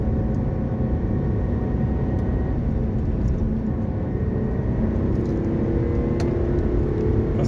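A Hyundai Coupé V6 FX engine pulls hard in third gear, a steady loud low engine roar heard from inside the car that holds without a break throughout, with no voices.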